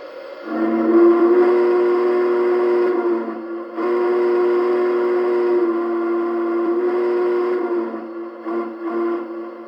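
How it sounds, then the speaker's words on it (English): Whistle number two on a Union Pacific 844 model steam locomotive gives a loud, steady chime blast lasting nearly three seconds, then a longer blast of about four seconds, followed by a few short toots. It is heard up close with no voices. "This is whistle number 2."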